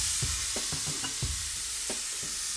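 Caramelized onions sizzle loudly in a hot pan as a splash of wine goes in, a dense hiss with a few quick stirring knocks over a couple of seconds.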